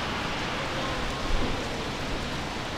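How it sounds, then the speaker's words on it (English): Steady, even hiss of rain falling on a surface at Disneyland, with a dense patter that holds constant throughout and no voices. "It is so rainy."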